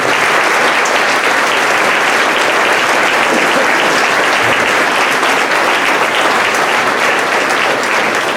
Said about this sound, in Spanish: Dale un fuerte aplauso a la presencia del Espíritu Santo